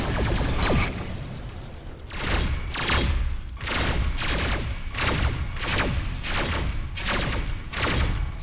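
Incoming missile strikes in the Rebel Galaxy space combat video game: a regular series of heavy thumping impacts, roughly one per second, loud and close, each followed by a short decaying rumble.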